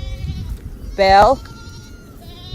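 A baby goat on a farm gives a single short wavering bleat, close and clear, with a voice talking briefly around it.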